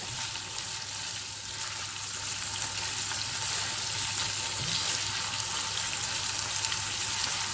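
Chicken pieces frying in a pan as they are turned, a steady close hiss of sizzling oil with faint shifting and scraping underneath.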